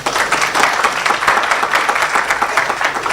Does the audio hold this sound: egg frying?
no